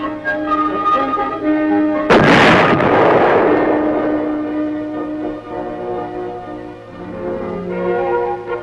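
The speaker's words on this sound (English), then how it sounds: "record the motion of the gun barrel with respect to the entire vehicle as the projectile leaves the muzzle and the weapon recoils" Tank gun fired during testing at Aberdeen, one loud sudden blast followed by a long rolling decay over an ongoing engine hum, with machinery noise continuing afterward.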